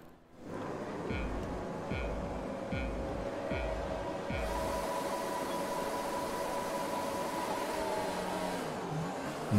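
F1 2020 race cars pull away from the grid at the race start, a sustained engine roar rising in pitch after several short pulsing revs, moderately loud with a background of other cars.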